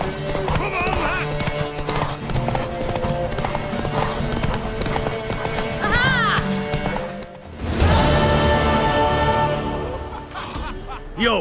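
Horse hooves galloping in The Witcher 3 video game, a steady loud clip-clop rhythm with an occasional whinny, under game music and character speech.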